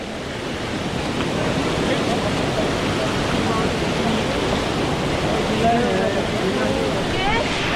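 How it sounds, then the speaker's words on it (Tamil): Steady, broadband rush of a monsoon waterfall on a forest trek near Netravathi Peak fills the whole stretch, loud and continuous, with faint chirpy sounds flickering above it. "தண்ணி சத்தத்தை கேட்கும்போது காட்டுக்குள்ளே ஒரு சந்தோஷம் தானாகவே வரதான் செய்யுது"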